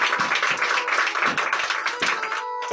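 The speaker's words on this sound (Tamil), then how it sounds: "கைத்தட்டுவோம்." A crowd claps together at a birthday celebration, dense and sustained applause close by, tapering off near the end.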